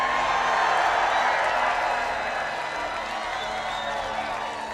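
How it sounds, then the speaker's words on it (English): A large crowd at a political rally applauds and cheers continuously, a dense, even wash of clapping and voices heard at a moderate distance with no break. "This is a big crowd, you know."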